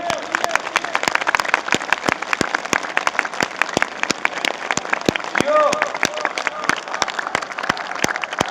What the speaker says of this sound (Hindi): जोरदार तालियां मौला की आमद की खुशी में।